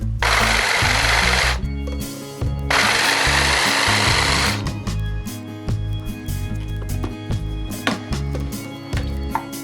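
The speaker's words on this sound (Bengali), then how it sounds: "আমার কাছে পাটা বুতো নেই তার জন্য আমি শুটকিগুলোকে ব্লেন্ডারে ব্লেন্ড করে নিবো" An electric blender grinds dried fish in two loud whirring bursts, followed by lower motor hum and rattling clatter of the jar.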